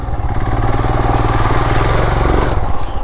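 Royal Enfield Himalayan motorcycle riding off-road on a monsoon route, its steady thumping single-cylinder engine loud and close throughout, with clattering and crackling toward the end.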